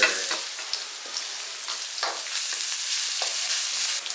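Garlic and ginger fry in hot garlic chili oil in a pan for a curry noodle soup, a bright continuous sizzle with crackling pops and the occasional stir, close and without voices.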